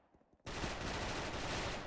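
P90 submachine gun fire in the shooter game Special Force, opening after a brief quiet moment with a dense, loud, continuous automatic burst that runs to the end.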